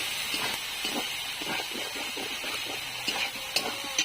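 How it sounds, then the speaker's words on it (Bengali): A vegetarian jackfruit and paneer curry with poppy and melon seed paste is stirred and sautéed in a pan, soft spoon scrapes and light sizzling repeating at a relaxed pace, fairly quiet. "এবার আমরা কষাতে থাকবো"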